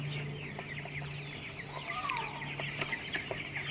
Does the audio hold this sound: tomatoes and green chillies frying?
no